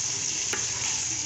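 Okra (bhindi) with spices stirring and frying in a pan, a steady close sizzle with one brief scrape of the spoon, no talking.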